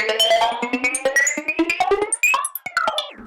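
A psychedelic synth sequence, run through a Time modulation plugin and a flanger, plays as a dense, loud run of bright, harmonically rich notes that slide and step upward, with a swirling, shifting tone throughout.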